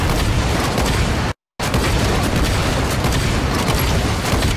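Rocket launcher explosions in Halo 5 roar loud and dense, a continuous barrage of booming blasts broken by one short silent gap.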